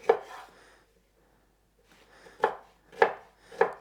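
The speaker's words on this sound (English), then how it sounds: "give that a quick chop" A knife chops deseeded tomatoes for salsa on a cutting board, one early thunk followed after a pause by three crisp, evenly spaced chops, close and clear with no talking.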